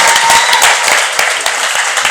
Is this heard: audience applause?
yes